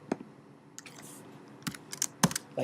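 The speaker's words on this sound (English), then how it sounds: "let's just type something in like" Quiet typing on a computer keyboard, a few scattered key clicks with pauses between them, close and faint, no talking.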